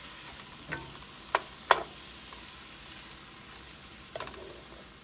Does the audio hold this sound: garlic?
yes